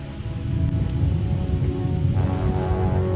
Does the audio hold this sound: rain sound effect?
yes